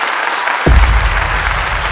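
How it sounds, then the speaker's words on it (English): Applause from an audience at a talk, breaking out abruptly after a brief quiet moment, then a dense loud clatter of clapping with low rumble continuing to the end. "Give her a clap."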